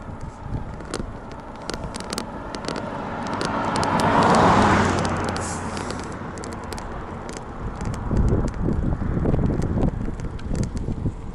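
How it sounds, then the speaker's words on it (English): Cars sweep past a cyclist riding a 1980 Nishiki gravel bike on a busy road, one vehicle swelling loud and then fading, with others following under gusty wind noise on the microphone. "Fair amount of traffic on this road"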